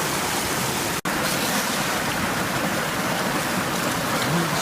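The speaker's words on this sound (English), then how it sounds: "Sluicing through my next bucket." Water pours and rushes continuously through a sluice as a bucket of gold-panning material is washed, a steady broadband splashing with one brief break.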